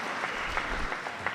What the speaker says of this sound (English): Crowd trying to lift Ojo up here after he fell behind 4-0.